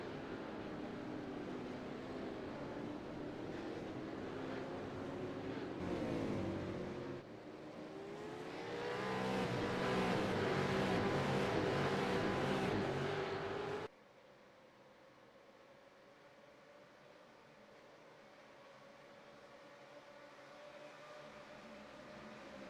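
V8 Supercars race cars at Sandown roar loudly past, engines revving and surging with a passing swell, then dropping abruptly to a quieter, steadier distant engine drone.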